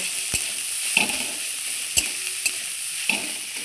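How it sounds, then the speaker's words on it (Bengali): Sliced onions fry in a pan for onion kachori, giving a constant bright sizzle under a few sharp clinks and scrapes from a stirring utensil. "পেঁয়াজটা হালকা নরম নরম হওয়া অবধি আমি ভেজে নেব"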